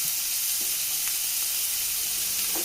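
Chopped onions and curry leaves sizzling steadily in hot oil, a close, continuous bright hiss with faint stirring clicks and no talking.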